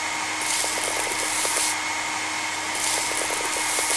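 A blower hisses and whooshes steadily in a video game while dirt is blown off an army tank, with a constant mechanical drone and two louder airy swells.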